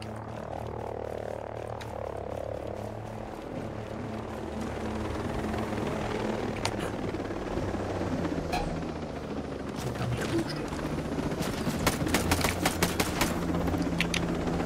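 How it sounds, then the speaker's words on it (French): A helicopter in the video game Ghost Recon Breakpoint drones continuously under gunfire-like clicks and sharp bursts, with the rotor rumble steady throughout. "Là, je suis coincé avec un hélicoptère."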